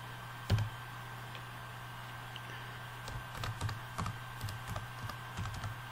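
Keys clack on a computer keyboard during an Excel database exercise, with an irregular run of close, light taps over a steady electrical hum and no voices.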